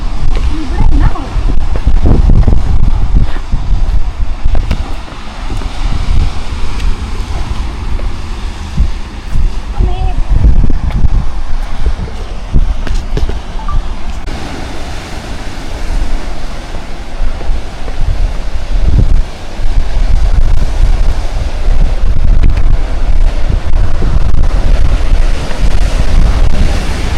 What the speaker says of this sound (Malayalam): ഇങ്ങോട്ടേക്ക് വരുന്നത് നല്ല കാറ്റുണ്ടല്ലേ. തണുത്ത കാറ്റ്, നല്ല സുഖം.